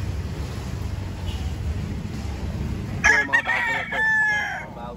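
Fighting stag rooster crowing loudly and close after a few seconds of windy outdoor background noise, one long cock-a-doodle-doo call in a backyard gamefowl farm.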